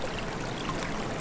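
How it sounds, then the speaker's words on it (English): Steady broadband rush of water flowing through a flooded ford near a waterfall in Chew Stoke, near Bristol, heard close and continuous without pause. "the ford is now completely full of water"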